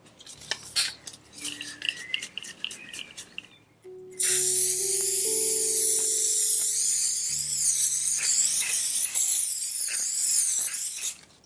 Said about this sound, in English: I'm having fixative spray here that I'm just going to apply now.